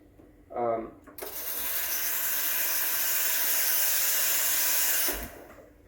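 Steam wand of a Breville Oracle espresso machine purging steam, a loud steady hiss lasting about four seconds after a brief mechanical clunk, then cutting off.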